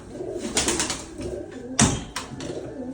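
Soft, low domestic roller pigeon coos close by, a few rounded calls with brief flutters and shuffling in between.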